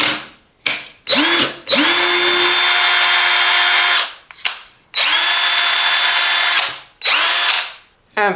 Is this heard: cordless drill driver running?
yes